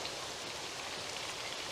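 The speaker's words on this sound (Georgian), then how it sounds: "მოკლედ წვიმამ დაცხო რა." Heavy rain pours down as a soft, even hiss of countless drops on surfaces, steady and fairly faint throughout, with no voices heard.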